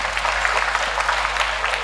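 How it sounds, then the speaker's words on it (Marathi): Sustained applause from a kirtan audience honouring a devotional performance, dense and steady clapping filling the space throughout with a low constant hum underneath. "एकदा जोरदार टाळ्या होऊ द्या."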